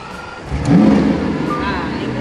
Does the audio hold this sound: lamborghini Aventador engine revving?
yes